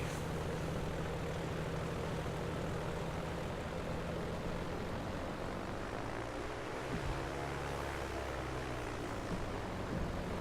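Propeller aircraft idling and taxiing toward the runway in the Prepar3D flight simulator at Kiruna airport, a steady engine drone with a low hum, constant and close throughout.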